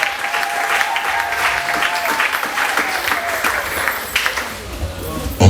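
A church congregation claps together in steady, dense applause that fills the whole stretch at close range, with a few voices mixed into the crowd noise.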